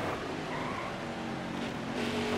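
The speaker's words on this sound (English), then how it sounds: "Got a car coming inside now." Race cars roaring past in the NASCAR Heat 4 video game, a continuous loud engine drone with tire noise throughout, no speech.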